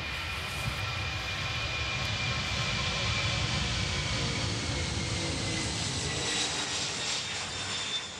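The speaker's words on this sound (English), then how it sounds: "Each piece of the aircraft is brought by this Beluga, Airbus's transport plane." Airbus Beluga transport plane engines drone steadily and loudly throughout, a continuous broadband roar with a low rumble and faint high whine that holds level without pauses.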